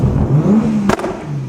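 A 600bhp Toyota Supra with anti-lag revs hard up close, its engine note climbing steadily before a sharp crackling bang cuts through and the engine drops back to a lower, rough idle.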